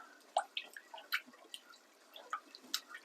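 Milk poured a bit at a time into a moussaka sauce, making soft dripping and wet squishy sounds that are close and quiet, with small irregular splashes and no talk.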